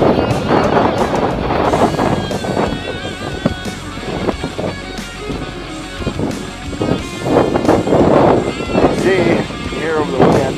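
Strong wind roars across the microphone during a snowstorm while someone pushes over deep drifts, a loud, gusting rush that swells and fades, with a voice talking at times over it.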